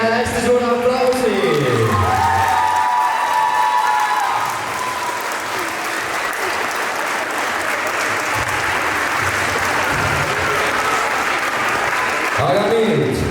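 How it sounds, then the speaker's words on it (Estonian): Loud, sustained applause from a large crowd at a school dance competition fills the room, with a few voices and whoops at the start and end. "Teeme Sõrile hästi suure aplausi."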